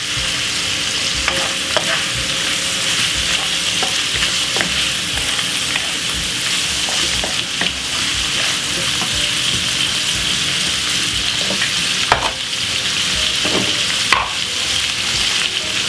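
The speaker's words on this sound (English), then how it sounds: "And fry down this Brussels sprout and smoked bacon for a few minutes." Brussels sprouts and smoked bacon frying in a pan, a loud, continuous sizzle close by with occasional scrapes and clinks of stirring, no talking.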